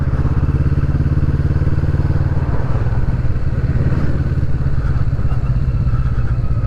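A 2020 Kawasaki Vulcan S motorcycle cruising on the road, its engine droning loud and steady with a low pulsing rumble and wind noise throughout.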